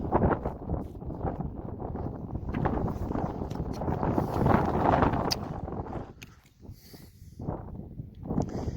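Strong gusting wind buffets the microphone in a loud, rumbling roar that swells and dips, easing toward the end.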